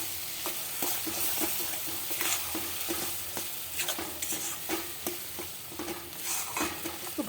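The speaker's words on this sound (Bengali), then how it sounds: "একটু ভাজা ভাজা হবে বিটটা।" Beetroot paste frying in a pan for a Bengali beet vorta, with steady sizzling and repeated scraping stirs of a spoon, close and clear, no voices.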